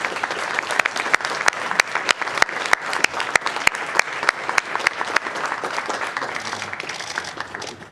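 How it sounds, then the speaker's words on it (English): An audience at a board of education meeting gives a round of applause, steady clapping that holds for several seconds with distinct sharp claps over the crowd and fades slightly toward the end. "So please join me in giving a round of applause for Dr. Akbar"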